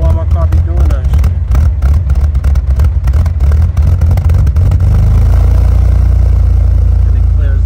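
A car engine idles and stumbles roughly after a Walbro 255 fuel pump and new filter install, a loud uneven clattering rumble that settles into a steadier drone near the end.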